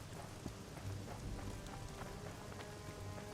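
Steady rain in The Witcher 2, a dense, soft patter of drops on surfaces, faint and continuous throughout with no voices over it.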